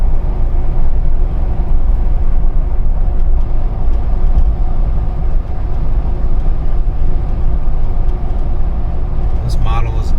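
A 2019 Jeep Wrangler cruises on adaptive cruise control, giving a loud, steady cabin roar of engine and road noise that holds evenly throughout with no talk.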